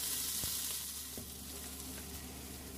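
Pork belly rolled around asparagus fries in a pan with a steady, close sizzle. A few soft taps of turning break the hiss, and there is no talk.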